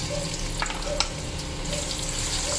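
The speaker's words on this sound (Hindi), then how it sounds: "1/4 कप मैंने ऑयल डाला है इसमें। अब प्याज डाल देंगे।" Onions frying in a quarter cup of oil in a pot for chicken yakhni pulao, a steady close sizzle with faint scraping and a couple of brief clinks, no voices.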